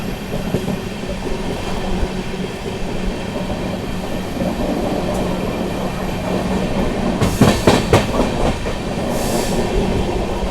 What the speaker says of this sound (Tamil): யஷ்வந்த்பூர் வாஸ்கோ எக்ஸ்பிரஸ் வந்து கிளம்பியாச்சுங்க